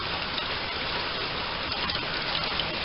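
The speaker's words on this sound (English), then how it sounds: "Gotten about 3 inches of rain so far." Heavy rain pours steadily during local flooding, a dense, even hiss of falling water with no pauses and no voices.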